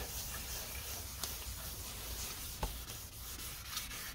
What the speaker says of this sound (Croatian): Da zagladimo sve crte i sve linije koje su nastale od 800, moramo to lijepo dobro zagladiti.